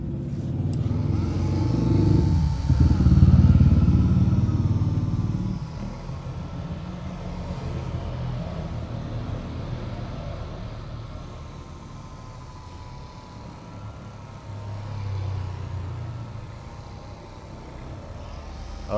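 A Xenon CDP 125 cordless polisher runs on a car headlamp with a low, loud motor hum that swells early then settles into a steadier, quieter whir, easing down and up again, with no one talking.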